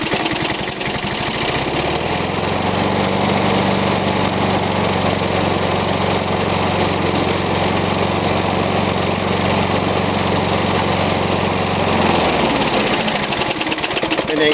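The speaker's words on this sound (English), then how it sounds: "we're going to do our last startup here before an oil change" An old Snapper push lawn mower with a little choke applied fires up after a short crank and runs steadily, a loud, close, continuous small-engine drone that holds level before cutting off near the end.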